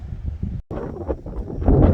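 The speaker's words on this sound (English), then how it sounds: "we're out here on the cornfield and it's awfully windy" Wind gusts across a cornfield being planted with sweet corn, buffeting close against the microphone in rough low rumbles with a brief dropout, growing stronger toward the end.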